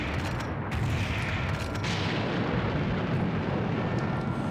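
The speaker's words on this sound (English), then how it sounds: "Heck, let's kill that major biomech with the sniper." A sniper rifle fires at a major biomech in the Serious Sam: The Second Encounter game, a heavy booming blast buried in a dense, continuous rumble of gunfire and explosions, with no talking.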